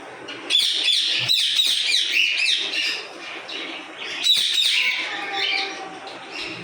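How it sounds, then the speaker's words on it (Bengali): Cockatiels on a bird farm chirping and squawking in busy overlapping bursts, bright and close, with a short pause before another flurry of calls. "এই যে এটা হচ্ছে সেই পাখি, ককাটেল পাখি"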